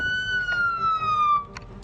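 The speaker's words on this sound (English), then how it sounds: "the sound radius of the ambulance might just be too wide" An ambulance siren from the Project Zomboid video game holds a single steady wailing tone that slowly drifts lower, loud and reverberant, before a couple of brief clicks at the end.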